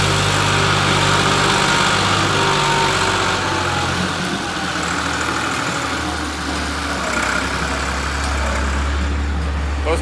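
Tractor engine hauling a trolley at a house construction site, a loud steady low rumble running throughout, with a faint voice now and then.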